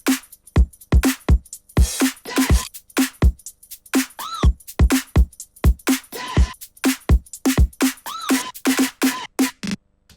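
Punchy electronic drums from the chorus of a dance track, with sharp kick and snare hits on a steady rhythm, bright tambourine-like breakbeat percussion, and synth tones layered over sub bass.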